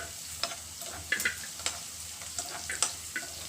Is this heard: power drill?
no